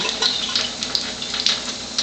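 Water from an Enagic alkaline water machine pours steadily into a jar, a close, continuous splashing stream with no talking.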